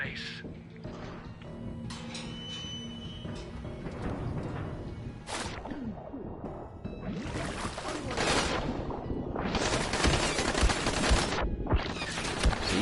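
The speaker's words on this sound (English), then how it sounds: "you will die to all those gunshots if you don't have one active" Heavy gunfire from the video game Dying Light rattles in dense bursts and volleys, loud and sustained, with crashing impacts and a voice talking underneath.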